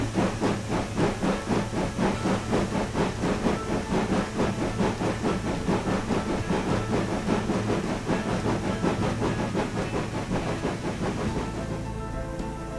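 A GWR 7800 Manor class steam locomotive in Train Sim World gives a steady, loud, close exhaust beat over a constant hiss of steam. The chuffing eases and thins at the very end.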